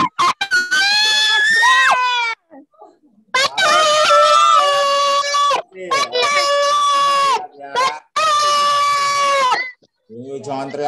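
Children scream and shriek in repeated loud, shrill bursts separated by short pauses during an online kids' church class.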